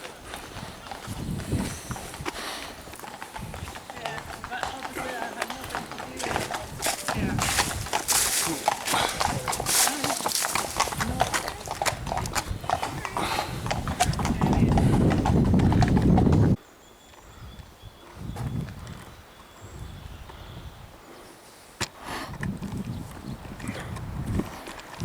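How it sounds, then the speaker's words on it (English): Horses walking along a quiet Scottish countryside lane near Dairsie and Kemback, hooves clip-clopping steadily and fairly close, with a louder stretch midway before the sound drops away; faint background noise and no talk. "Horses."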